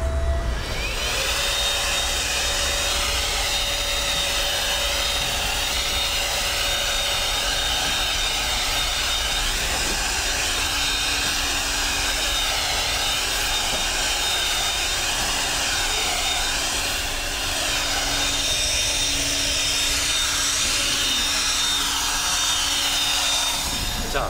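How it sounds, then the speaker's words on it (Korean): A small handheld leaf blower fitted with a short nozzle blasts air across the ground outdoors, a steady loud whooshing roar with a high motor whine that holds for the whole stretch. "우선 제가 짧은 노즐을 이용해서 바닥을 한번 불어내 보겠습니다"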